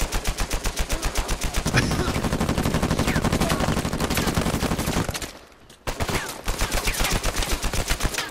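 Automatic gunfire rattles in rapid, relentless bursts during a multiplayer match of Uncharted 4, loud and close, with one brief lull before the shooting resumes.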